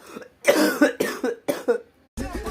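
A feverish man with a chesty throat coughs in a quick series of harsh, wet bursts, close and loud, with short pauses between and a final cough after a brief silence.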